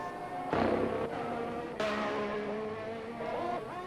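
Race car engine in a sim racing league event at the Qatar circuit, a high-pitched whining motor revving hard with abrupt gear shifts and rising pitch sweeps, loud and close throughout.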